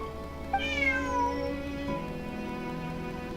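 A cat's meow from the video game Genshin Impact, a single drawn-out call rising and falling over a steady musical background, clear and close.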